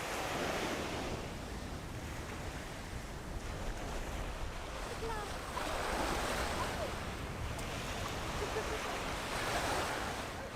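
Ocean waves wash steadily onto a beach on an overcast day, a continuous broad roar of surf with gusty wind buffeting the microphone throughout.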